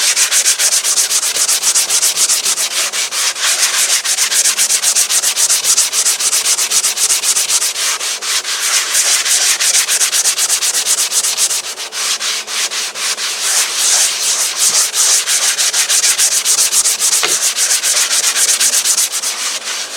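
Plaster is sanded smooth on the wing of an RC Lufthansa A350-900 model, giving a loud, continuous rasping rub in quick, even back-and-forth strokes for twenty seconds with no talking.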